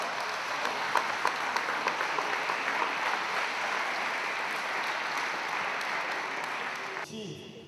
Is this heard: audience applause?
yes